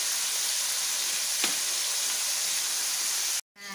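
Catfish pieces frying in hot oil in a home kitchen, a steady close sizzle and crackle with a small clink partway, then a sudden cut and the hiss returning at the end.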